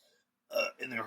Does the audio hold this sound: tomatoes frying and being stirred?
no